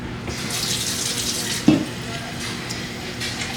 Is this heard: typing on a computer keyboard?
no